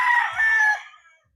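White Kelso rooster letting out a single loud, close crow with a drawn-out middle that trails off after about a second.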